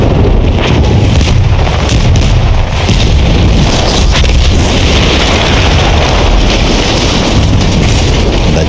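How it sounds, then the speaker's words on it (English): A loud, sustained roar of explosions and rumbling booms in the video game Battlefield 1, dense and distorted, continuing without pause and filling the whole stretch. "That explosion was one of the sweetest sights of the war for me."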